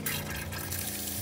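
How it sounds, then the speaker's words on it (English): A Roadtrek RV's fresh water pump runs steadily, its low mechanical hum layered under a continuous rush of water moving through the plumbing as the system purges air. "You hear the water pump coming on to get all the air out of the system."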